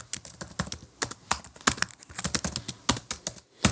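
Fingers type rapidly on a computer keyboard, producing dense bursts of crisp clicking keystrokes with brief pauses between runs, close up and with no speech.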